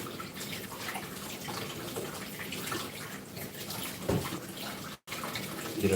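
Cold water runs steadily from a tap to rinse a boiled egg, a dense continuous splashing flow with a brief cut near the end.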